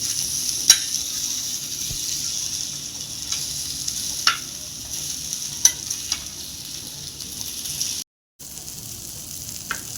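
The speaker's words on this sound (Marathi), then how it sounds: "आणि त्यावर आपल्याला मस्त अशी मच्छी फ्राय करून घ्यायची" Fish frying on medium heat in a pan for a rustic Konkan-style fish curry, a steady soft sizzle running throughout with a few brief sharp crackles and one short dropout near the end.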